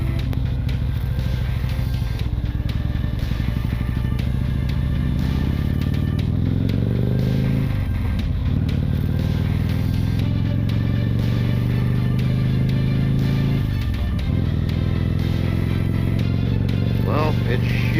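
A Harley-Davidson CVO Street Glide rumbles along on the road, its deep engine droning steadily with two clear gear shifts where the pitch drops and climbs again, while wind noise runs underneath.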